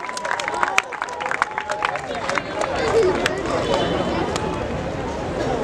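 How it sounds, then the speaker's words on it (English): Audience applause at a Mumbai District Football Association Yuva President League ceremony, a steady patter of many hands clapping over a murmuring crowd, with a few sharper claps standing out near the start. "Keep the applause coming here."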